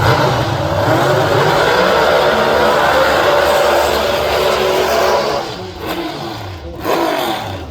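An injected 285-cubic-inch automatic drag racing car accelerating at a dragway, a loud, close, sustained engine roar that drops off briefly near the end, then surges again.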